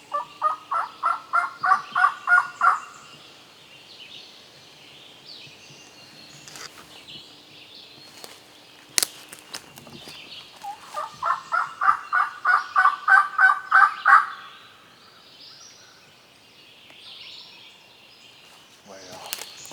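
Wild turkeys gobble during a spring turkey hunt outdoors. Two loud, rapid rattling gobble bursts, each a few seconds long, are separated by a quieter stretch with faint rustling.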